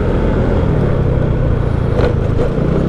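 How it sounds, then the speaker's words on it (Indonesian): A Yamaha Xeon RC 125 scooter engine revs hard with a steady, strained whine, loud and close throughout, with no talking. "Tuh berasa kayak teriak gitu mesinnya,"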